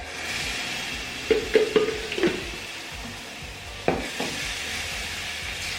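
Tomatoes hit a sizzling masala paste in the pan, a close, steady fry with a quick cluster of clattering stirs and knocks, then a louder scrape a couple of seconds later.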